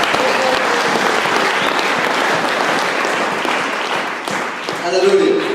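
A church congregation applauds Jesus during a sermon, a loud, dense burst of clapping from a large crowd that fades slightly before a brief swell near the end.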